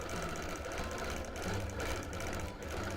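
A sewing machine runs steadily for free-motion quilting on a wholecloth quilt of Bonnie & Camille print and Grunge Aqua fabric, a continuous close whir with no pauses and no talking.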